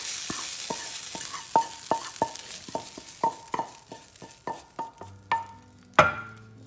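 Lamb mince is mixed by hand with sautéed onions, garlic and spices in a bowl, making a steady series of wet, squelching slaps about every half second, close and clear, ending with one sharper thump.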